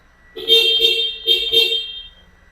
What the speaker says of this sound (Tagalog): Testingin natin yung busina. Ito yung stock niya mga boss.